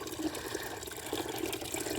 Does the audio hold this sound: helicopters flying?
no